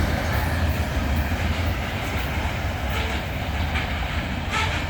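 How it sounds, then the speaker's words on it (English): Empty southbound CN coal train U700 rolling past on the Champaign Chicago subdivision, a loud continuous rumble of wagons with rhythmic clickety-clack of wheels over rail joints, close by and steady throughout. "This was a 2x0 southbound empty coal train, CN U700, and the CN Champaign Chicago sub"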